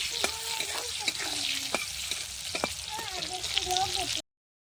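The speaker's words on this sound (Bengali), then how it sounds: "তারপরে আমি এই বেগুনগুলোকে ভেজে নেব।" Eggplant pieces fry in a pan with a steady sizzle while a spatula scrapes and taps repeatedly, close and busy, ending abruptly in silence.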